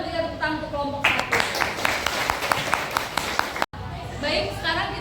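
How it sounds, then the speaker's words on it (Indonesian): A classroom of students claps for group 1 after a short story presentation, a dense burst of many hands lasting a few seconds, starting after a voice speaks and then stopping abruptly, followed by more talk. "Kita berikan tepuk tangan untuk kelompok 1."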